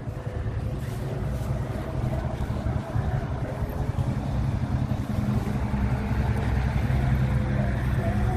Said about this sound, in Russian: Вот это уже новые автобусы.